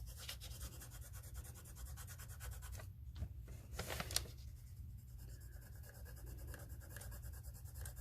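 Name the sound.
coloring in paper with pencil or crayon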